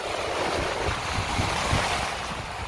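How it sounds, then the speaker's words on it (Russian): Open-sea waves washing onto a small beach between piers at Sveti Vlas on the Bulgarian coast, a steady broadband surf wash with gentle surges, moderately close, with no talking. "Волна побольше, я скажу."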